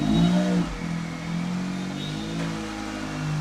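Turbocharged SUV engine revving under the accelerator, a loud, close, throaty roar that swells at the start, dips, then holds a steady rumble with a slight rise toward the end, no talking over it.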